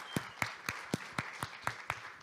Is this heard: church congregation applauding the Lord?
yes